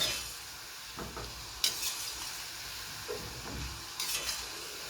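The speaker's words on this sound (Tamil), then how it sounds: "இந்த மாதிரி நல்லா நம்ம வந்து பிரட்டி விடணுங்க எண்ணெயில்." Falafel balls frying in hot oil, turned now and then so they brown on all sides; a steady sizzle fills the clip, with a few scraping stirs and bursts of crackling, and no one speaks.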